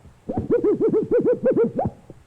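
A humming electronic photocell tone from a light beam chopped by a comb's tenor teeth pulses in about nine quick, evenly spaced, arching swoops, smooth and hoot-like, then stops.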